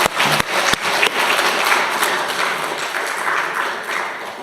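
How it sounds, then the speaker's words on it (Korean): A Sunday morning church congregation claps for one another, a loud, full burst of applause with a few sharp close claps at the start, continuing evenly to the end. "오늘 나오신 여러분 서로를 위해서 한번 박수를 쳐주겠습니다"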